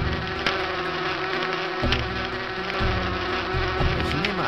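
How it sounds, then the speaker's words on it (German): Continuous close buzzing of bees in the PC game Erben der Erde, an even insect drone with small pitch wobbles that fills the whole short stretch, with no speech. "Fliegt hinfort, kleine Biene."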